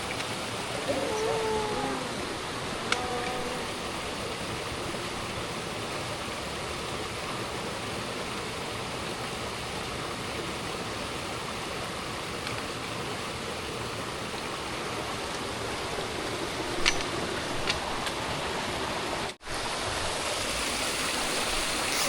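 A stream rushes steadily beside a hiking trail on the Appalachian Trail, a dense continuous broadband wash of flowing water heard close and unbroken, with a few faint clicks and sounds from the hiker over it.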